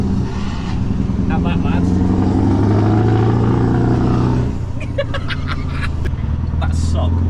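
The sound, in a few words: straight-piped Scania V8 truck engine revving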